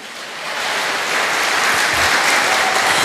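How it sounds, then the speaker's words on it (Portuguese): A church congregation applauds during a worship service, a broad, continuous roar of clapping that swells slightly louder over a few seconds. "Aplauda Jesus."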